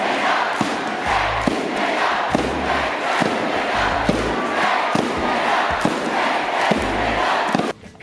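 School classes at a competitive cheer event chant and roar as loudly as possible in repeated rhythmic bursts, with deep thumps of stomping or drumming marking the beat, ending abruptly.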